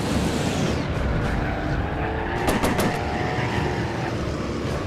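A fighter plane engine from the WarPlanes video game drones loud and steady throughout, with a brief rising whine as an aircraft sweeps past midway.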